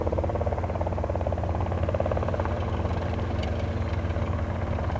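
A Robinson R22 helicopter runs at Princeton Airport, a loud, continuous engine drone with a rapid rotor thump, close and steady without pause.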